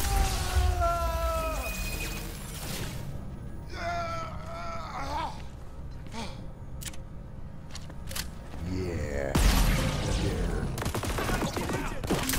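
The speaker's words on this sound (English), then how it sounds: "Shotguns cut through trouble up close and personal." Shotgun fire in the Xbox One game Crackdown 3: loud bursts of blasts and impacts layered with swooping game effects and a steady backing score, with a voice heard among them.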